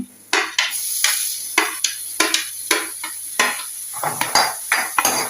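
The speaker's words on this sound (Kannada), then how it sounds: "ಇದ್ರ ಜೊತೆಯಲ್ಲಿ ನಾನು ಕಾರ್ನ್ ಹಾಕ್ತಾ ಇದ್ದೇನೆ" A spoon scrapes and clacks repeatedly against a pan as corn is added and stirred, the sharp metallic strokes coming in an uneven rhythm over a faint sizzle, close and clear.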